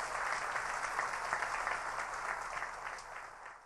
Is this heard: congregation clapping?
yes